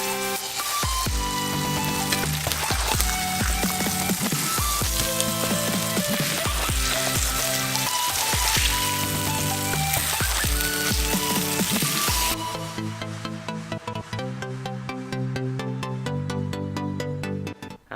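Steaks sear in a very hot pan with a steady, loud broadband sizzle that runs for about twelve seconds and then drops away, all beneath prominent rhythmic background music.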